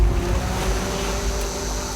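Sea waves wash continuously against an island shore, a broad, steady roar with low rumble and some wind buffeting, close and fairly loud with no voices.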